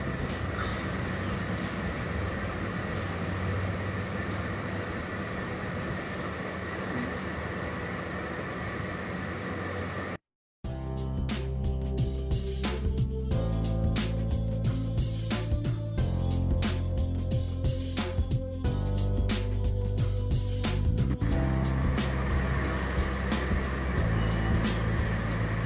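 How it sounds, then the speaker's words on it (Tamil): Cabbage pakoda batter dropped into hot oil gives a loud, continuous hiss and crackle of frying, broken by one brief silent gap before the sizzling resumes even more densely. "இப்போ எண்ணெய் நல்லா சூடாயிட்டு இப்போ நம்ம மிக்ஸ் பண்ணி வச்சுக்கிறத கொஞ்சம் கொஞ்சமாக போட்டு"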